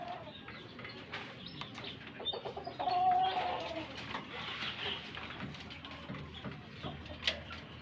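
Chickens cluck and murmur nearby, with scattered short calls over a low background hum.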